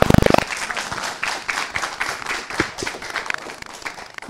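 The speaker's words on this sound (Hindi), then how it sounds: "ये तालियां हमें बता रही है कि रचना कितनी शानदार थी।" An audience claps after a poem recital at a Republic Day poetry gathering. A brief loud burst at the start gives way to steady, moderately dense applause with scattered individual claps close by.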